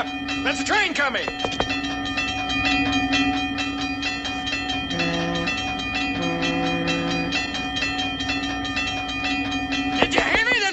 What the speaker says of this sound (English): That's a train coming.